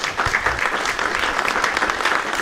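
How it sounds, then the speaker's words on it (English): Audience applause at an Atheists for Liberty live debate event, a dense, steady clapping from a sizable crowd that holds at an even loud level throughout, with no one speaking. "everyone give a round of applause for all of you that asked great questions, and for Destiny himself for coming on out."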